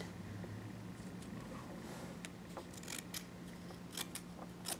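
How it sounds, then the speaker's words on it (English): Scissors making small snips in paper during a crafting session, a series of faint, quick clips that grow more frequent toward the end over a quiet hum. "So now before I glue this on, I'm gonna do little snips."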